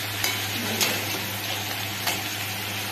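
Fish heads sauté in a pan with a continuous crackling sizzle, a low steady hum underneath and a few sharp spatula scrapes and clinks, no one speaking.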